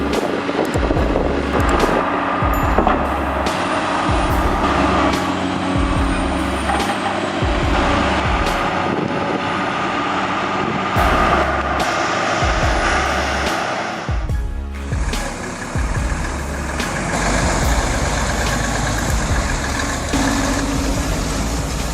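A 420 horsepower Volvo truck stuck in mud, its engine roaring steadily as the wheels spin, with loud droning and churning that swells and dips over a long stretch, plus a brief air-brake hiss.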